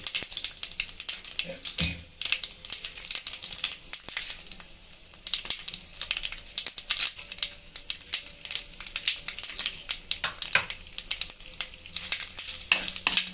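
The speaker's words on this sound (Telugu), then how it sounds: "జీలకర్ర వేయండి, కొంచెమే వేయండి, కొంచెమే అండి. తర్వాత ఎండుమిర్చి వేసుకోండి" Cumin seeds and dried red chillies fry in a hot pan with oil, giving a continuous crackling sizzle broken by scraping stirs and small pops, with no talking.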